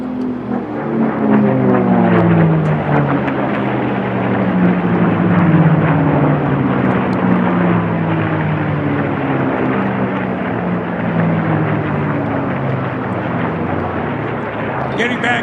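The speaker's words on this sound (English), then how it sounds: "Let's listen to the sound of these Rolls-Royce designed Packard Merlins, Reno style." Rolls-Royce designed Packard Merlin aircraft engines roar loudly as a North American airplane races past at the Reno National Championship Air Races, a sustained, rumbling drone whose pitch sweeps steadily downward as it passes close by.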